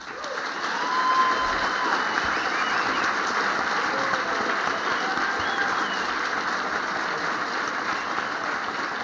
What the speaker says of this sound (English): a round of applause for both candidates